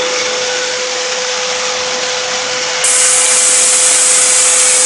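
Energomash KP9660R electric paint sprayer running steadily throughout, a loud continuous motor whine with airy hiss that gets brighter and louder partway through, no talking.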